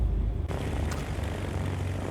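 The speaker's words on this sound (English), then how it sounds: "Always get the feeling that we're going to take the wingtips off taxiing down this bit at Ashburton." A small propeller aircraft taxis along a narrow taxiway at Ashburton, its engine a steady, close, continuous drone and broadband rumble throughout.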